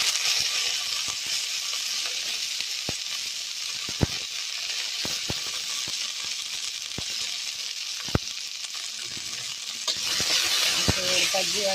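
Green gravy for ghee rice sizzling and frying in a pan, a constant bright hiss with scattered sharp clinks and scrapes of a spoon stirring, close and alone with no talking.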